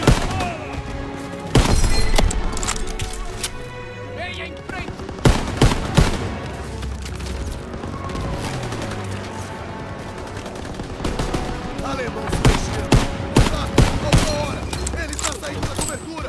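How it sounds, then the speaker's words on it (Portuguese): Heavy anti-aircraft and machine gun fire in a Call of Duty: WWII battle, with loud bursts and booming volleys spread across the scene, thick rattling fire in the middle, and shouted voices mixed into the chaos. "Aquilo é disparo de arma antiaérea."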